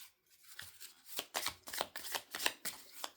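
Oracle cards being shuffled by hand close up, a run of quick papery riffles and slaps in an uneven rhythm, fairly quiet, with no voice.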